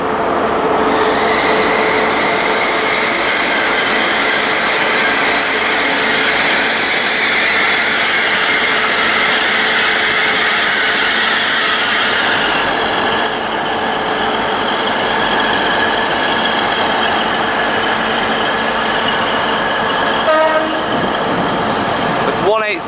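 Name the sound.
Class 180 Adelante train arriving at Reading station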